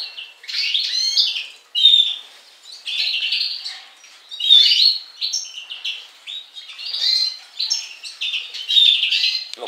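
Caged greenfinches and other small birds chirp and twitter close by in quick overlapping bursts of bright song, with brief pauses between phrases and no talking.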